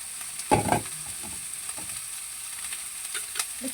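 Four medium eggs hitting a hot pan, a faint sizzle with a few soft scraping stirs near the start, quiet and without talk.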